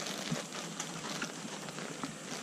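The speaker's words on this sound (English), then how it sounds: "It is raining." Steady outdoor rain falls at a constant hiss across the whole stretch, with faint scattered drop taps and no voices.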